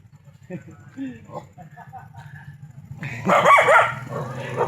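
A person talks quietly, then a dog barks and growls nearby, loud and harsh for over a second.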